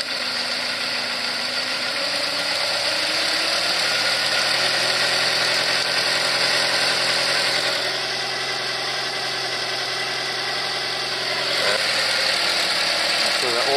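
A Toyota Tarago engine idles steadily with a mechanical ratcheting tick while the idle screw is turned, the idle pitch dropping noticeably partway through, close and continuous.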